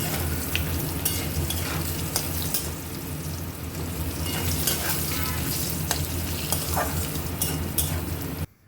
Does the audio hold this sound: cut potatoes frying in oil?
yes